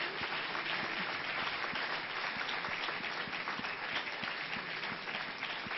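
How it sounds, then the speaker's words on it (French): Audience applause at a prize ceremony for teaching innovation in engineering sciences, honoring a team from Nouméa: continuous, moderately quiet clapping from a crowd, dense and even with crisp individual claps, sounding somewhat muffled. "On peut les applaudir."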